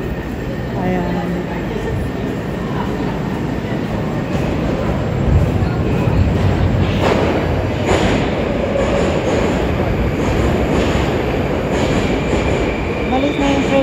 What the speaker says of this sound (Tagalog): Malis na yung train na sinakyan ko.